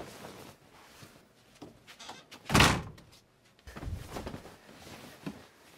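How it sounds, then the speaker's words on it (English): A door is shut with a single solid thunk in a home, close and fairly loud, with faint movement and shuffling before and after. "Hey, close the door!"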